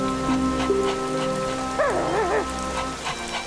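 Cartoon rain falls as a steady hiss beneath sustained musical tones and a wavering, sliding melody, continuing evenly throughout with no talking.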